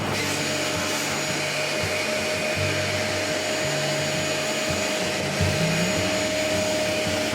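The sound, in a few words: vacuuming fly ash from furnace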